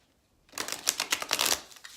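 Tarot cards riffled in a quick close-up shuffle, a dense run of crisp papery flicks and slaps lasting about a second and a half after a short quiet start, with no voices.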